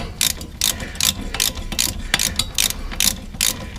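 Tightening front suspension bolts on a Lincoln or Ford, a hand ratchet gives a rapid run of sharp, close clicking strokes, repeated steadily almost a dozen times.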